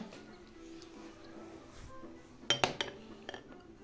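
Spoon and dishes clink sharply at a table with pudding, a quick cluster of bright metallic taps after a quiet stretch, with a voice faint in the background.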